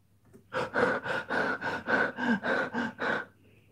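A person pants, out of breath, in nine rapid, even, voiced gasps. They are close and fairly loud, with no other sound or speech, and a voice imitates the sound of breathlessness after running.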